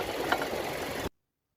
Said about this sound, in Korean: 연료 공급 튜브의 홀더가 엔진의 진동에 의해서 마스터 실린더와 부스터를 때리는 소음으로 판단됩니다